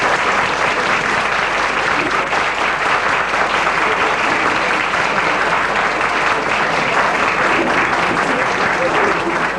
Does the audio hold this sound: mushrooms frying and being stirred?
no